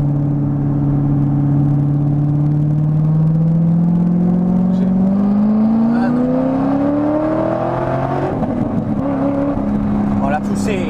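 A Corvette C6 Z06 accelerates hard with a loud, close engine roar whose pitch climbs steadily, then drops abruptly at a gear change before pulling again.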